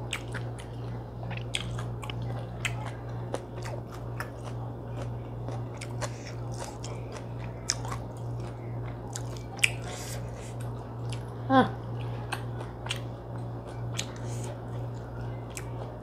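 Wet, close chewing and biting of stir-fried water spinach with beef, with squishy crunches and small clicks repeating irregularly over a steady low background hum.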